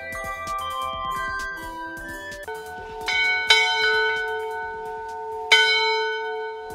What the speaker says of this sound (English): you change the sound you hear from the bell.